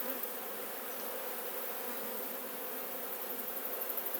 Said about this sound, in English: But you can hear the flying of them all.